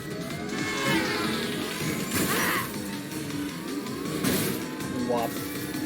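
Vehicle crash impacts in Mass Effect 2: loud smashing thuds land among dense game noise and engine rumble, with a voice talking over the action.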